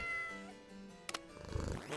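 A cat in the video game Cat Chess meows, a clear close mew followed by a rougher drawn-out yowl, alone without talk.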